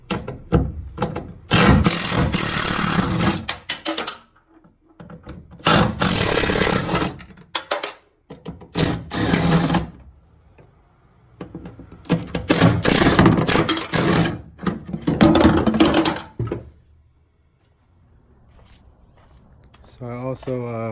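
Power sander working over the bed of a Ford F150 pickup truck during prep for a Raptor liner coating, running in several loud bursts of a few seconds each with short pauses between.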